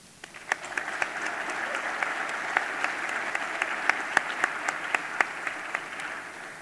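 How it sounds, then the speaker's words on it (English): At a Harvard Graduate Council event, a large audience gives the faculty a steady round of applause, an even wash of many hands with a few sharp, closer claps standing out, slightly distant and sustained throughout. "I'd just like to give our faculty a big round of applause"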